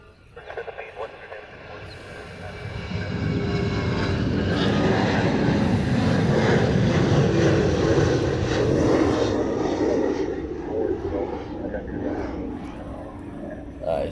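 A Boeing 717 airliner departs in Hawaii, its engine roar swelling from quiet to a loud, broad rumble that holds for several seconds before slowly easing as the jet moves away; a voice speaks faintly under it.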